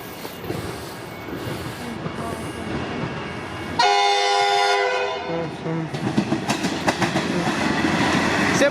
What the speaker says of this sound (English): This is the train heading to Seymour Station.